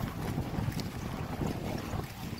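Steady wind rushes and buffets the microphone outdoors in a continuous low roar with no talking.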